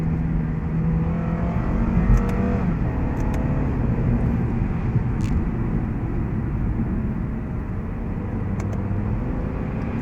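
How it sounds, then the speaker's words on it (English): Lexus IS 200t F Sport being downshifted several times in manual mode, its engine note rising and falling steadily from inside the cabin, with road and wind noise throughout and no talking. "if I were to put it in manual right now and downshift a few times"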